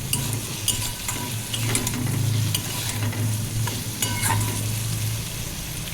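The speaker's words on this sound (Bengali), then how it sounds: "আলু দেওয়ার পর 2-3 মিনিট আমি আলুটা একটু কষিয়ে নেব" Potatoes sauté in a pan and are stirred, making a steady close sizzle with repeated scraping clicks over a low, constant hum from the stove.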